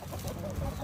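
Short bursts of chicken clucking close by, over a noisy, rustling background.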